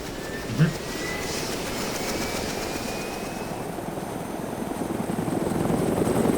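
Helicopter from the DayZ video game flying steadily, a loud continuous rotor drone with a whine that builds slightly toward the end, with brief voices and chatter in the background.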